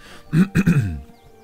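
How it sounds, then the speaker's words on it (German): A man gives a short, voiced throat clearing in two or three gruff bursts, close to the mic, followed by a trailing hum and then quiet. "Ich muss mich kurz räuspern."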